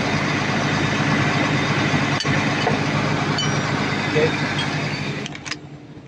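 A Cat 320DL excavator's diesel engine idles continuously at close range, a low rumbling drone that fades slightly near the end with a few brief knocks; the machine has a low-power and overload fault.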